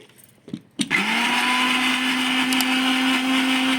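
A mixer grinder switches on after a couple of clicks and then runs with a loud, steady whirring drone as it grinds salted, soaked lentil batter.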